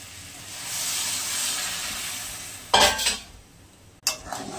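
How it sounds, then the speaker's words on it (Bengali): Hot water poured into a pan of masoor dal: a soft steady sizzle gives way to two sudden loud hissing bursts with clatter as the water hits the hot pan. "গরম জলটা দিয়ে দিচ্ছি"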